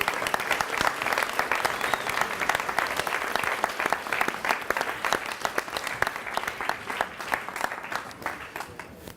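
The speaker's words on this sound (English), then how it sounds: "A big round of applause to Russell's tutor group." Dense, continuous applause from a large audience fills a hall at a school graduation ceremony, with many hands clapping steadily at a moderate distance and no break for its whole length.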